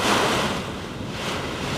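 Strong wind gusts and surf roar outside during a stormy day of rain and flooding, a steady, loud broadband rush with no voices.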